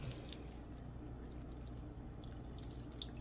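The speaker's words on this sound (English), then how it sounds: "So I have some room temperature water or tap water, and we're just going to pour that on top." Room-temperature tap water is poured over Shin Ramyun noodles, a soft continuous trickling pour with faint splashes, steady and fairly quiet with no talking.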